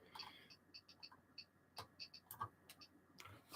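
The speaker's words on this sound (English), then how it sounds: "Can you hear the Geiger counter ticking in the background?" A Geiger counter ticks in the background of a quiet room. Faint, scattered clicks come at irregular intervals, followed by a louder bump at the very end.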